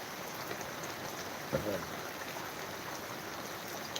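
Heavy out-of-season rain pours down over a vegetable plot in Dumlav village, Pardi taluka, Gujarat, a steady dense hiss with one brief knock partway through.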